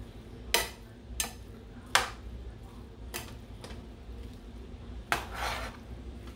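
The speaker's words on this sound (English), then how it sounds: "Gonna mix that up really good." Shrimp lo mein is tossed in a pan, with several sharp metallic clinks and scrapes of a utensil against the pan at irregular intervals over a quiet background.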